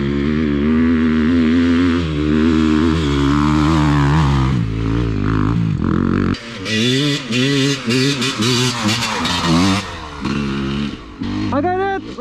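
A KTM 350F enduro motorcycle climbing a ramp on one wheel, its engine revving hard with rising and falling pitch, loud and close, mixed with excited voices.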